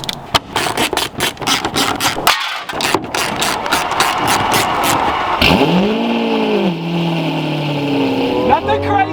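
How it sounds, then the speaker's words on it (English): A V12 car engine roars hard under acceleration with wheel spin, a loud rising growl that swells and then falls away. Voices talk over it throughout. "Wow, that was wheel spin."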